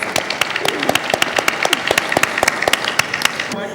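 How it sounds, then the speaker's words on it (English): A festival audience at a film conversation event with Deepika Padukone gives a round of applause, with nearby crowd clapping and distinct individual claps punctuating the wash, ending abruptly. "Round of applause for that, guys."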